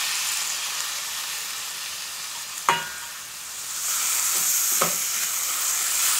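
Chopped onions sizzle in a pan for a fish curry, a steady close frying hiss broken by a couple of sharp scraping stirs, with the sizzle swelling louder partway through.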